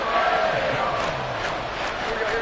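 Dense roar of a football stadium crowd on its feet during a tense third-and-seven play, loud and continuous with cheering and shouting blended together throughout.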